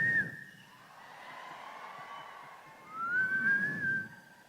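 Loud whistles from a crowd at a Telugu film pre-release event, a long shrill whistle at the start and another rising one near the end, over a steady murmur of the audience.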